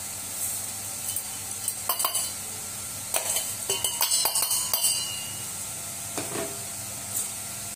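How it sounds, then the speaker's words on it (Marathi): Peanuts are stirred into hot jaggery syrup in a pan, a low bubbling hiss broken by clusters of scraping and clinking strokes against the metal, close and moderately quiet with no talking. "आणि शेंगदाणे मी एकत्र करते।"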